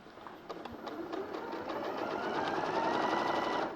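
A sewing machine stitches quilt block fabric with a steady, close mechanical whir and a fast needle patter that grows slightly louder, with no voices.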